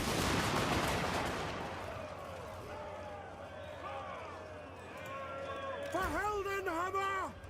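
A loud burst of musket volley fire opens the scene in Total War Warhammer 2, crackling and fading away as someone speaks over the battle noise.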